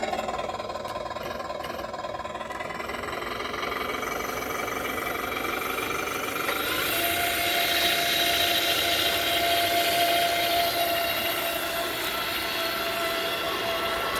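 An SCX6 RC crawler with two brushless motors and ESCs runs at full throttle on 3S, giving a loud, steady whine that rises in pitch partway through, with a sustained motor drone and no talking.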